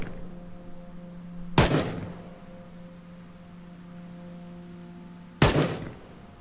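Gunfire in the video game Dead Linger: two sharp, loud shots about four seconds apart, each with a short decaying tail, over a steady low hum.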